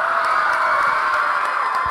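A school audience at a Thai literary drama performance of Khun Chang Khun Phaen cheers and applauds a cast member, giving a dense, steady roar of crowd voices with scattered claps throughout and no distinct speech.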